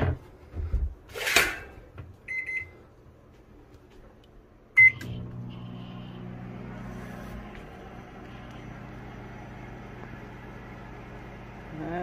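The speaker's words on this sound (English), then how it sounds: "let's see if this microwave trips the generator." A microwave oven runs on household power backfed from a shed generator, a steady low hum starting after a sharp click and continuing evenly, preceded by a few brief clatters and a short beep.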